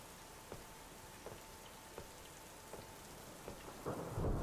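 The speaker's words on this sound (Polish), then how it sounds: "Burza! Nienawidzę burz!" Rain falls steadily in a horror video game mansion while soft thunder rumbles repeatedly at regular intervals, growing louder toward the end; quiet and distant overall, with no talking.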